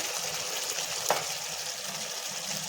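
Green chicken fries in a pan with a steady, dense sizzle, close and continuous, with a faint stir or scrape partway through and no talking.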